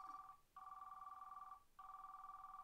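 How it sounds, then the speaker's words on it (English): An in-game telephone rings in Roblox: a steady electronic tone sounds in two long bursts separated by a short gap, clear and even with nothing else over it. "Someone's calling."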